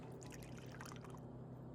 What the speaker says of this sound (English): poured some water into the chalice and the contents began shining